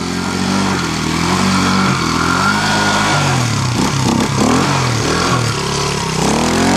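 A dirt bike engine, mired in a muddy rut, revs loud and close in a continuous rising and falling drone, with several sharp throttle swells toward the end and no talking.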